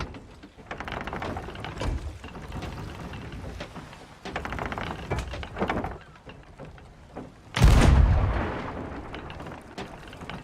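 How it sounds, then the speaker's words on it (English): A ship's cannon in Sea of Thieves fires with one loud deep boom that fades slowly, preceded by clunking and thudding sounds of loading and handling aboard the ship. "To load the cannons you need to go over to the cannonball barrel, pick up the cannonballs, put them into the cannon and fire away"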